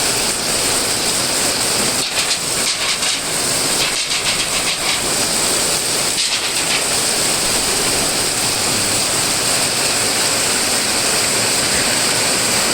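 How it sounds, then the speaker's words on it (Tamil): Heavy rain pours steadily on a morning in Pattukottai, a dense, loud, unbroken hiss that fills the scene throughout with no voices. "இப்போ நல்லா மழை பெஞ்சுருக்கு"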